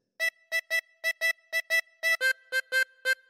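Harmonica playing a short phrase of a theme as a series of repeated short puffed notes in a bouncy rhythm, clear and close with silence between notes, no voices.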